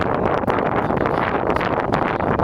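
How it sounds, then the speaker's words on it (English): Strong wind buffets the microphone continuously, a loud roaring rumble with gusty fluctuations and no other clear sounds. "it's so windy"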